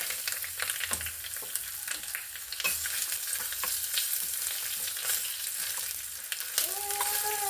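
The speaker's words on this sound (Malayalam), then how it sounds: "ഇനി അതിലേക്ക് രണ്ട് വറ്റൽമുളകും കുറച്ച് കറിവേപ്പില ഇട്ട് കൊടുക്കുന്നുണ്ട്" Dried red chillies and curry leaves hit hot oil in a pan for a Kerala-style curry, a steady close crackling sizzle with sharp pops throughout and a brief tonal whine near the end.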